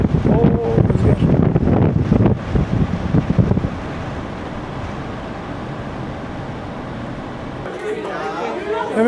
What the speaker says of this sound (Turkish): Oo, rüzgar.